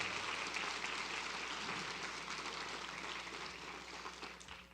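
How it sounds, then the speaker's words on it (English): Applause at a graduation ceremony for new Coug alumni, a faint, distant wash of clapping from a large crowd that holds steady and slowly thins toward the end. "big round of applause for our newest Coug alumni"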